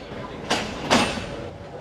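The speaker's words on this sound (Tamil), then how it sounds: "இந்த சவுண்டு கேட்டது இல்லையா, இப்போ தான் வந்து பினியன் என்கேஜ் ஆகுது." Two short bursts of grinding and clanking as the Ooty heritage toy train's rack and pinion engages on the hill section, each loud, close and brief, set against a rumbling carriage background.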